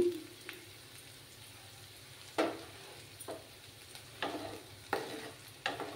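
Onions frying in a pan until reddish-brown for an egg-and-potato dish give off a soft, steady sizzle, broken by several sharp scrapes of stirring.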